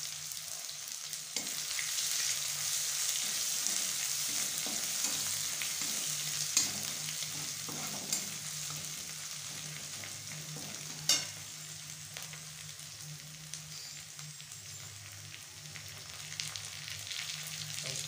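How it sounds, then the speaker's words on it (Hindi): Ginger garlic paste sizzles steadily in a frying pan, a continuous hiss with occasional stirring scrapes and small pops, fairly quiet and close, with no talking. "इसमें अदरक और लहसुन का पेस्ट डाल रहे हैं"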